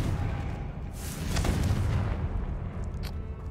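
Confringo blasting spell from Hogwarts Legacy, a deep booming explosion with a rumbling, sustained roar that swells around the middle and holds steady, loud and close, with no talking over it.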